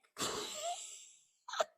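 A single loud, close sneeze with a drawn-out breathy burst, followed by a short second sound after a brief pause.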